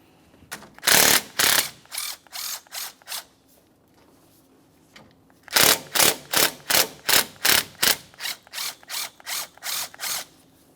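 A socket wrench ratchets in quick bursts of clicks while removing A/C condenser mounting bolts on a 2014-2018 Mazda 3, two short runs followed by longer rhythmic series of cranks, close up and alone.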